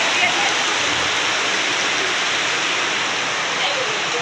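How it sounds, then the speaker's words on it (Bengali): Rain falling in a continuous, even hiss, close and fairly loud, with no voices over it. "বৃষ্টি নেমে গেছে"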